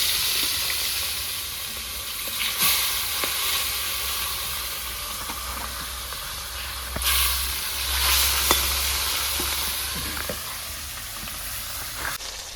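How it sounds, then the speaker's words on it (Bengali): Pieces of a large rui fish fry in oil for a village-style Bengali fish curry, giving a continuous hissing sizzle that swells and eases over several seconds, with occasional sharp spits and no speech. "প্রথমে মাছটা ভেজে নেবো।"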